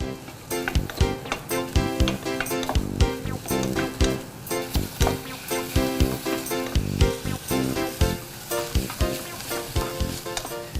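Mushrooms seasoned with salt and pepper sizzle steadily in a hot pan for a breakfast burrito, with crackling pops and frequent stirring clicks close up.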